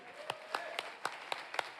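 A few people in a church congregation clap in slow, evenly spaced beats, roughly four per second, sharp and distinct against a faint background hum, sounding sparse and somewhat distant.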